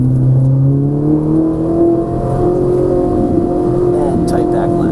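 Ferrari 458 Italia engine droning and revving at the Exotic Driving Experience track in Orlando, with steady rising and falling harmonic tones lasting throughout, loud and close from inside the car, with a driver talking over it.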